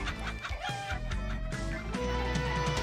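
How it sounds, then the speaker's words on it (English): Chicken clucking in a Philips CD-i video game, repeated squawks and clucks over a steady layered game soundtrack, loud and close. "What's with the chicken noises?"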